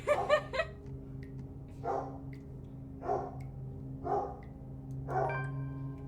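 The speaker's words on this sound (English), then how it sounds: "Yep, dog's upset about the lawnmower." Several dog barks in a video game ring out at steady intervals, a quick double yip first, then single barks over a constant lawnmower drone.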